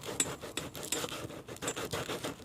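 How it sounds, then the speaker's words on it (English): Coarse 80-grit sandpaper scrapes back and forth in a plastic groove on a 2007 Mercedes-Benz S550, a close, quiet run of short rasping strokes in an uneven rhythm. "having a piece of 80 grit and just hit it on the sides"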